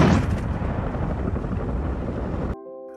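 A massive air-strike explosion in a film erupts as a loud, rolling boom and a dense roar that sustains for about two and a half seconds, then stops abruptly, leaving a faint tone.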